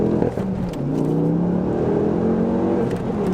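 A Mk2 Ford Focus ST pulls hard along a road, its engine note climbing steadily in pitch under acceleration, heard from inside the car at a strong, constant level with no talking.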